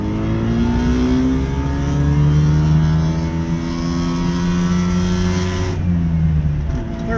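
A smoky two-stroke car engine pulls hard through the gears, its buzzing note rising in pitch, dropping at each shift and climbing again, loud and close from inside the car with no talk.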